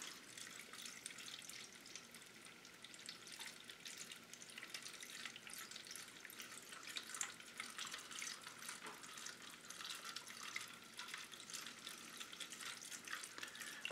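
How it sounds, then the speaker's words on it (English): Liquid poured slowly into a container for stripping a 1971 Oldsmobile 442 model kit gives a faint, steady trickle and fizz, close and continuous without voices. "I'm just pouring it slowly because I don't want to splash around."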